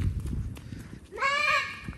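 A voice imitates a goat bleat, a single wavering, nasal call that rises and holds for about a second at close range, following earlier background chatter and noise.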